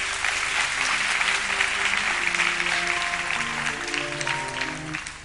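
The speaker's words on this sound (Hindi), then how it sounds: "तालियां नहीं बजाएंगे आप लोग?" A studio audience at an iftar broadcast breaks into warm, continuous applause alongside background music, the clapping holding steady for several seconds and fading slightly at the end.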